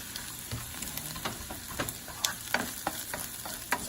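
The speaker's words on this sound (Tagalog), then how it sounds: "ilagay na natin yung sibuyas dahil medyo matagal ito maluto. Pero talagang inuuna ko ang bawang. Okay, now, mix na natin siya." Onions and garlic sautéing in a pan for Filipino dinuguan, with a steady low sizzle and frying crackle broken by scraping stirs of the spatula at irregular intervals, close and moderately quiet, with no talking.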